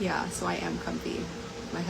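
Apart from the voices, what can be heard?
No distinct noise like a dog, phone or traffic.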